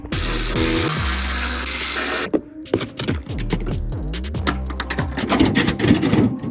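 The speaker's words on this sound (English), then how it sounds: "we're gonna start the rebuilding process first by removing this front bumper" Power tool whirring steadily for about two seconds as screws come out of a wrecked police car's front bumper, then a run of clicks, clatter and short tool bursts, close and loud with no talking.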